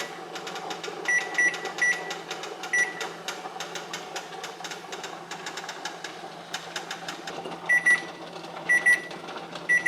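A kitchen timer goes off during canning of vegan spaghetti sauce in jars, giving bursts of shrill electronic beeps in short groups near the start and again near the end, over a steady kitchen hiss.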